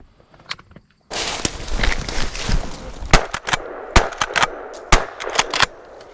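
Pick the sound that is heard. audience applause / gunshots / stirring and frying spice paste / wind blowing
gunshots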